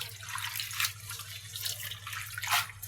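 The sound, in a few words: washing red amaranth leaves under running water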